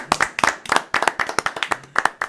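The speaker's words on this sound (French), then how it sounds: "on l'applaudit." A small television studio audience claps in a sparse, uneven rhythm of distinct individual hand claps, close and bright, with no talk over it.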